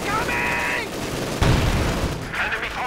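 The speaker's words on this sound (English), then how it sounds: "Firing away with all 3 machine guns." Machine gun fire from three guns on a Panzer in the Company of Heroes 2 strategy game rattles in dense bursts. Booming explosions and battlefield noise surround it.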